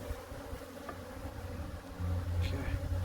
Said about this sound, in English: But look at the volume of bees